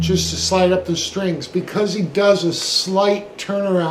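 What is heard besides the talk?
No everyday noise stands out behind the speech.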